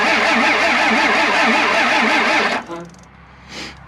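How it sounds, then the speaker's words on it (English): A 1st gen Cummins engine cranks over slowly with a loud, steady, rhythmic churning for about two and a half seconds, then cuts off, leaving faint clicks and a soft whir. "that's a good sign that the motor turns over"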